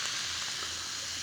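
Dr Pepper Blackberry soda fizzing over ice in a glass, a steady, close, soft hiss of bubbles with no talk.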